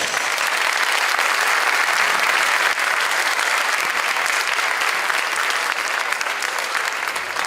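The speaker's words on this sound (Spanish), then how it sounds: "pido a todo el personal presente un fuerte aplauso por José María Arguedas" A large crowd gives loud, sustained applause at a formal ceremony marking the 112th anniversary of José María Arguedas's birth. The clapping is dense and unbroken and stays at an even level throughout.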